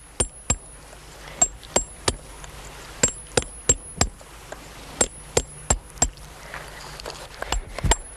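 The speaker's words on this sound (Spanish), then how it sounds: "a golpe de cincel y puntero convierte en un bajo relieve" Hand chisel and point struck by a stonemason's hammer against a block of quarried mountain rock, giving sharp, ringing metallic blows at an irregular pace, about two per second, loud and close with no talk.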